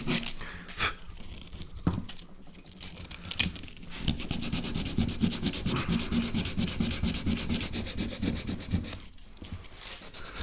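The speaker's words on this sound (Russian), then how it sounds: "вышкуриваю древесину" Sandpaper rubs steadily over wood patched with a homemade filler of PVA glue, sawdust and chalk, a close, continuous rasping scrape with a few brief pauses and no talking.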